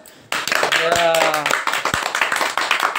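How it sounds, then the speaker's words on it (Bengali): A small family group claps hands together at home, a burst of quick overlapping claps with voices talking and cheering over it. "তাহলে একটা জোরে হাল্লা করে হাততালি দিয়ে দিই"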